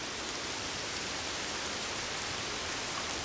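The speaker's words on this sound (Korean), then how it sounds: "처마 끝에서 떨어지는 빗소리를 들으면 꽤나 운치가 있죠." Steady rain falls from the eaves of a traditional Korean hanok roof, a dense, even hiss of drops spread across the whole clip with no voices.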